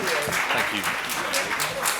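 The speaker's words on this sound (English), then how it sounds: "Can we have a round of applause for our wonderful panel?" Audience applauding a press conference panel for The Huntsman, steady dense clapping throughout with a voice speaking briefly over it.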